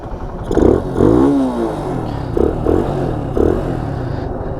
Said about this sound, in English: Lovely little engine.